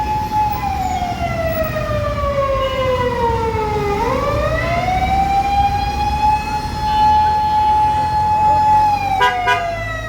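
An ambulance siren wails on a busy street in Dhanmondi, Dhaka, between two hospitals, sweeping down and rising again in a long loud tone over traffic rumble.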